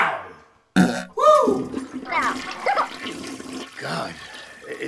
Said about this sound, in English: Can you please give me a courtesy flush at least?